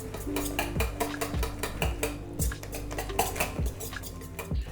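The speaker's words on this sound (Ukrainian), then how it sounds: "І це все добре перемішуємо." A spoon clinks and scrapes steadily against a bowl as egg, egg white and lard are mixed for garlic pampushky dough, with repeated knocks over steady background music.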